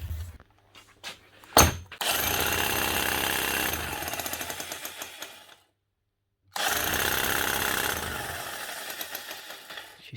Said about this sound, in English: She starts hammering and then she stops, and all the energy is going back up into your hand.